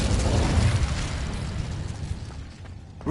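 A fiery Incendio spell cast in Hogwarts Legacy, a loud roaring burst of flame that rumbles and crackles steadily for several seconds, thinning briefly before a fresh flare at the end.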